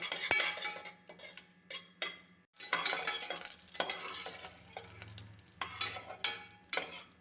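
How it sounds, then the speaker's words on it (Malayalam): Cardamom, cloves and black peppercorns sautéing in hot ghee in a pan, with a soft sizzle and repeated scraping, stirring clinks of a spoon against metal, coming in short, uneven bursts with brief quiet gaps. "നാലെണ്ണം ഗ്രാമ്പു നാലെണ്ണം കുരുമുളക് അഞ്ചെണ്ണം ഇട്ട് ഒന്ന് വഴറ്റി കൊടുക്കാം"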